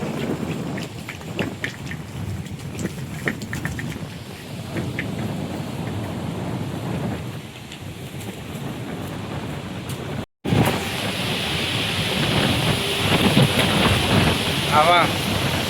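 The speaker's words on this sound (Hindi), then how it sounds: "अभी भयंकरी तेज़ हवा चल रही है अभी।" A violent storm blows outside by a motor garage, roaring steadily with gusts, dust and what sounds like rain battering surfaces, and a brief dropout midway.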